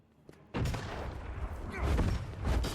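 Soldiers open fire in a loud, dense volley that bursts in abruptly after a near-silent moment. The shooting then rolls on as sustained overlapping gunfire.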